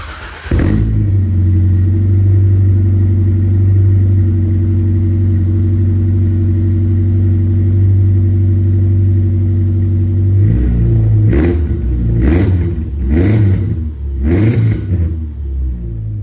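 A Subaru fitted with a full exhaust idles with a loud, steady, raspy drone. Near the end it gives a few short revs that rise and fall in quick succession.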